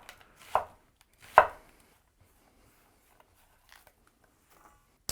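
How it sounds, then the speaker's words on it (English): A knife chops white onions into quarter-inch strips on a cutting board, two sharp close cuts early on, then a few faint taps trailing off. "we're just gonna cut these into about 1/4 inch strips"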